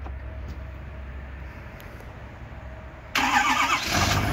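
A 2015 Ford F-350 Super Duty diesel pickup sits quiet under a faint low hum until its engine fires by remote start near the end. The start is a sudden loud burst that settles into a close, rough idle.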